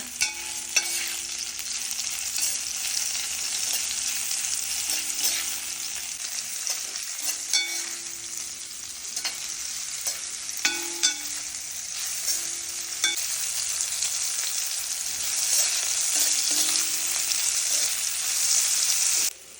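Bitter gourd masala roast sizzles steadily in a pan while a utensil stirs it, with repeated scraping strokes over a continuous frying hiss, close and moderately loud, with no talking.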